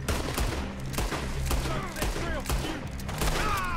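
Revolver gunfire in the video game Red Dead Redemption 2: a scattering of sharp shots, some near and some farther off, over a busy game soundscape with music and faint voices.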